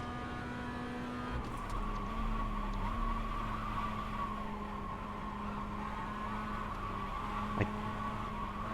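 In the iRacing simulator, a car brakes abruptly and hard at Lime Rock Park. A steady engine drone runs under a sustained tire-scrub squeal, with one brief sharp knock near the end.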